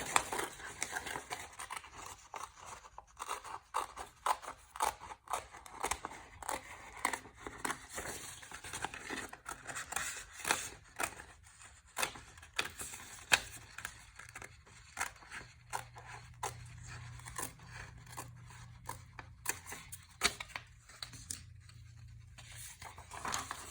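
Scissors snipping through colored paper to cut out shapes for a preschool lesson, a quiet, steady run of short crisp cuts and soft paper rustles with no talking.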